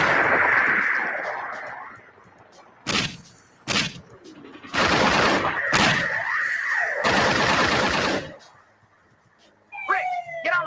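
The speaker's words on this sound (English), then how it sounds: "Son of a bitch is shooting." Bursts of gunfire from an armed gyrocopter in pursuit over open country, loud rapid volleys in several clusters with a rotor drone beneath, and voices speaking in between.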